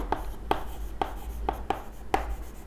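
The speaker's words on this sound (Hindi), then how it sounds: "हम लोग यहाँ पर लिखते होते हैं टोटल" A pen scratches across paper as figures are written in a petty cash book: six quick, close strokes in an uneven rhythm over a quiet background, with no talking.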